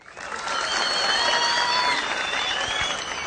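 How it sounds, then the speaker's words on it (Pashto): An audience at a Pashto poetry recital by the poet Turab breaks into applause: dense, steady clapping from a crowd that swells in quickly, holds for about three seconds, and begins to fade, with faint voices mixed in. "خوښې چکچکې"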